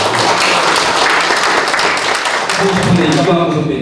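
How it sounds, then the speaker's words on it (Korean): Audience applause at an alumni association board meeting in a Seoul hall, a steady dense wash of clapping from many people, loud and close throughout, with a voice faintly underneath. "박수 보내주십시오."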